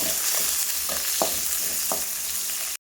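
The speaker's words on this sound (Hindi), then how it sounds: "प्याज को हल्का सुनहरी होने तक भूनेंगे" Onions sizzle in hot oil in a pan with bay leaf for mutton curry, a steady close frying hiss broken by a few sharp stirring scrapes before it cuts off.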